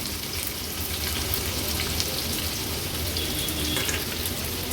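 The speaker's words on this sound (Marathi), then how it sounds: "एक मोठ्या साईजचा कांदा बारीक चिरून घेतलाय तो आपण ह्या तेलात ऍड करूया" Finely chopped large onion sizzles in hot oil, a dense, continuous frying hiss heard up close and fairly loud, alone with no talk.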